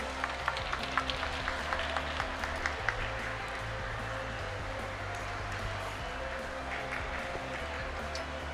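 Audience at a school award ceremony for Rubik's cube competition winners claps steadily, a continuous wash of applause with scattered sharper claps and a low background hum.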